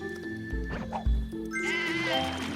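Cartoonish sheep bleats from the video game Divide by Sheep ring out over layered game music, with thumping impacts in between and a higher wavering bleat near the end.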